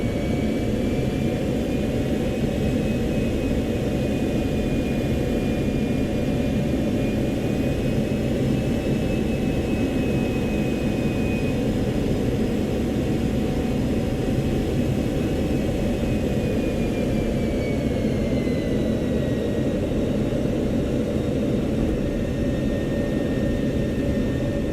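Steady loud jet engine roar from an F-16 on landing approach in the video game Arctic Thunder, a continuous broadband rumble with whining tones that slowly shift pitch, running unbroken with no voices.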